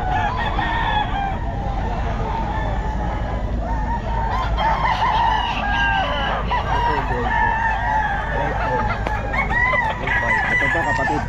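A Sweater gamefowl rooster, eight months old, crows repeatedly at the Bocaue pet market. Other birds cluck and crow close by over a steady market din, with faint voices in the background.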